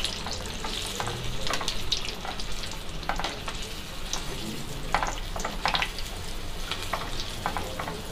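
Besan-coated mirchi bajji chillies deep-frying in hot oil, a steady dense sizzle with bubbling crackle bursts, close and continuous throughout, no talking.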